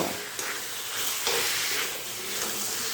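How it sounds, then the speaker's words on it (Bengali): Boiled green jackfruit sizzles and fries in spice paste in a hot pan for a Bengali jackfruit-and-prawn curry, a steady close hiss with occasional stirring scrapes and no talking. "এবারে মশলার সঙ্গে এই এঁচুরগুলো আবারও খুব ভালো করে তিন থেকে চার মিনিট কষিয়ে নেব"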